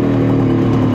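A 1974 Kawasaki H1 Mach III 750cc two-stroke triple motorcycle, running a little lean on oil, idles loud and close with a steady buzzing engine drone, no one talking over it.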